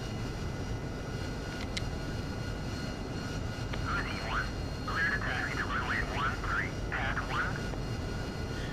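An AV-8B Harrier jet in the DCS World flight simulator taxis, a steady engine hum with a whining, warbling turbine tone rising and falling in the middle, while a voice talks over radio-style chatter.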